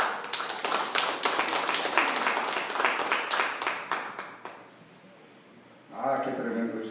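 Congregation applause and clapping at a Spanish-language church sermon, a dense burst of many hands that fades after a few seconds, followed by a brief lull before a preacher's voice resumes.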